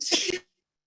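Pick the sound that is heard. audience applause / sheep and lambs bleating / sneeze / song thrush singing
sneeze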